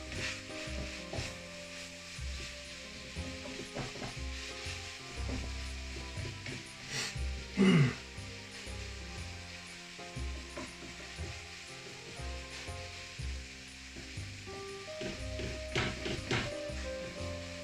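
Food sizzles in olive oil in a pan on a gas stove, a steady crackle running the whole time with a brief louder hiss partway through and no voices.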